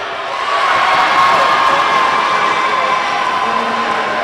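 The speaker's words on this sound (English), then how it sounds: "A lot of people cheering for Guayana in here." Spectators at a 2014 CBC Championship basketball game between the British Virgin Islands and Guyana cheer loudly in the arena, a sustained crowd roar that swells and holds throughout.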